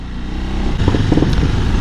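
KTM Adventure 390 R motorcycle engine revving nearby, a steady loud rumble with a rising throttle blip and rough clattering texture, no voices.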